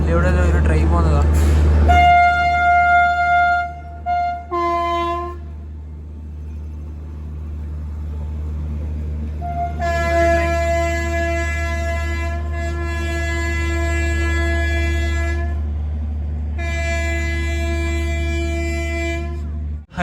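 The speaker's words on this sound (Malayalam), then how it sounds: "അതിലൂടെ ഒരു ട്രെയിൻ പോകുന്നതാണ്" A train near Old Delhi Junction clatters past with a deep rumble and sounds its horn in several long, loud blasts, separated by pauses.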